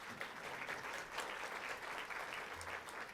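Faint, steady applause from a conference audience at a mayors' small business event, a sustained wash of many hands clapping at some distance.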